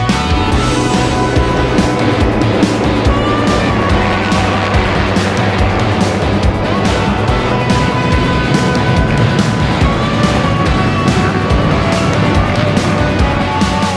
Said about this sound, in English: 800 plus riders all setting off at the same time on the same track.